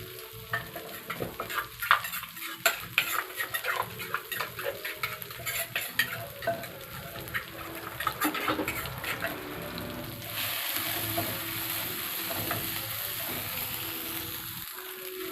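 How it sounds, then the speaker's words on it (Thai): Pounded chillies and garlic stir-fried in hot oil, a close, busy sizzle broken by repeated scrapes and clinks of a spatula against the pan, which settles into a steadier hiss near the end. "ตั้งน้ำมันให้ร้อนแล้วก็ใส่พริกกับกระเทียมที่เราตำไว้นะครับ"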